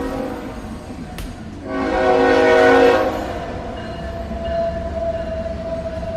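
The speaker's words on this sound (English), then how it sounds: "Sorry about that train going by." A train rumbles past an outdoor press briefing, its horn blaring loudly for about a second before the steady rolling of the cars carries on in the background.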